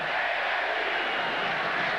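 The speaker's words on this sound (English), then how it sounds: "And so now the crowd begins to become involved in this football game." A large football stadium crowd at a college game roars in a dense, sustained wash of cheering and shouting that holds steady at a moderate distance.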